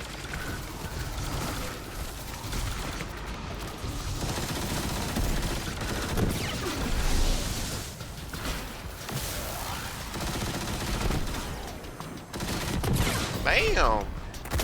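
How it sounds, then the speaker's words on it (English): Machine gun fire in a shooter video game, rapid sustained bursts rattling on for many seconds with brief gaps, mixed with game effects and someone talking over it. "I have a machine gun for a reason."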